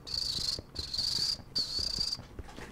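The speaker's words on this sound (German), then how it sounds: "Ich mag deinen Grillenpfeifen." Cricket chirps from a Minecraft game world (FTB Infinity modpack), three steady high-pitched trilling bursts separated by brief gaps, fairly loud and close with no voices.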